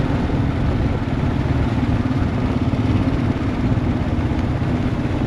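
A BDRX adventure motorcycle rides onto a dirt and gravel road in the Pennsylvania Wilds, its engine droning steadily and loud up close with a rough, constant rumble and clatter throughout.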